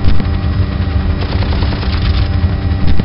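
Apache helicopter gun firing in Team Apache: a loud, continuous rapid burst of automatic cannon fire lasting throughout, dense and close, with an engine drone underneath.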